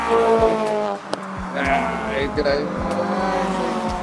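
A race car lapping a circuit and braking into Surtees, its engine note dropping through rapid downshifts with sharp blips, loud and close as if heard from onboard, with no talk over it.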